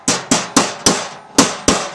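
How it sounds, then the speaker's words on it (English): A small flat hammer taps crush nuts into sheet metal while a Toms Offroad tailgate bucket is assembled: six sharp metallic strikes in a steady rhythm, close and loud, with no voices. "You can take a small flat hammer,"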